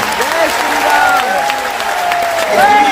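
Loud applause from a large crowd at a Bageshwar Dham religious gathering, a steady wash of clapping running throughout beneath a prominent amplified voice talking over it.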